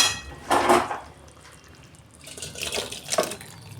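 Cooked soybean curry is poured out of a pan, giving two short wet bursts of sloshing and scraping against the pan, close and moderately loud, with a quiet gap between them.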